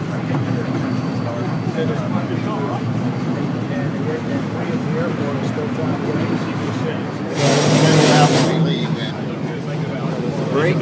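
Passenger train rolling past a crowded Christmas train event for Toys For Tots, a steady low rumble under crowd noise with a brief louder burst near the end.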